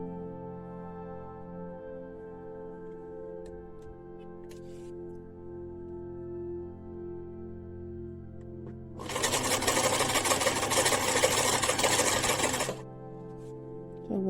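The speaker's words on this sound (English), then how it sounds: "so you always check your sewing machine. We want a straight stitch." A sewing machine runs a straight stitch in one steady, close whirring burst of about four seconds, after a quiet stretch of low background hum.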